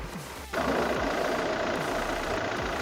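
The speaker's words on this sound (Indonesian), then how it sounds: "Ini mesinnya berisik karena ini mesin diesel ya guys" A Toyota Fortuner 2.4 VRZ diesel engine idles close by with a steady, rough, clattering rumble that grows louder partway through and then holds even.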